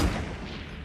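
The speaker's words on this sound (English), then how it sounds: "I'm gonna do a test fire of the sniper to check on drop rate" A single sniper rifle test shot in Fortnite, caught as a brief, loud, boomy blast that fades out quickly within a second.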